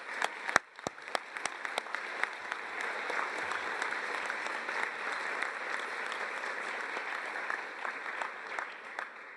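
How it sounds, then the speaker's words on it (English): Audience applause at a community college commencement ceremony, steady, dense clapping from a large crowd heard from a distance, lasting throughout with a few sharper claps near the start. "Let's have a round of applause for those folks at home."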